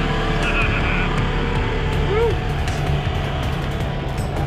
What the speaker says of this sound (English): I'll show you a few of them being towed back up to the top.